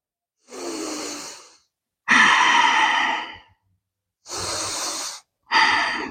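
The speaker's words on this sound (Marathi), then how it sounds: "लंबा श्वास घ्यायचा आणि बाहेर सोडायचा." Deep yoga breaths during a sukshma vyayam exercise: four long, hissing inhales and exhales, each lasting about a second, separated by brief silences and heard close up.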